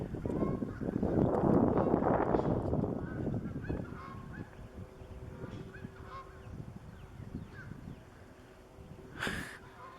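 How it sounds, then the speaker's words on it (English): Geese honk overhead as they fly past, loud at first and fading over several seconds, with wind noise and a brief distant call near the end. "There's some geese there flying through."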